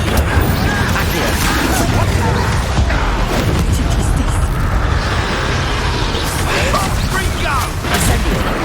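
Fiery Incendio spell blasts from the video game Hogwarts Legacy, a dense, loud, continuous roar of bursts and crashes with no clear gaps, mixed with background game noise.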